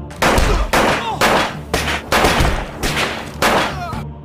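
Gunshots ring out in a darkened room in about seven heavy, booming bursts, each with a short echoing tail, loud and close, in a dramatized sound effect.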